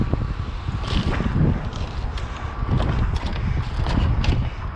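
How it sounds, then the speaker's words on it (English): Gusty wind buffets the microphone with low rumbling bursts, accompanied by scattered clattering and knocking sounds nearby. "It's a little windy out here tonight"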